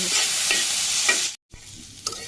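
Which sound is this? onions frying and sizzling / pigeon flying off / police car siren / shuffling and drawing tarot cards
onions frying and sizzling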